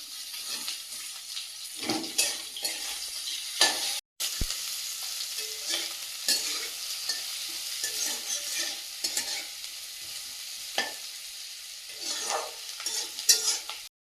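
Chopped onions with salt and minced ginger frying in a pan, a steady sizzle broken by repeated scraping stirs, brief clatters and one sudden short gap in the middle, with no voices.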